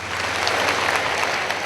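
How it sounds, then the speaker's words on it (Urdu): Steady, dense applause from an audience in a hall honoring the Prime Minister, a continuous wash of clapping at full volume throughout. "آپ کی بھرپور تالیوں میں"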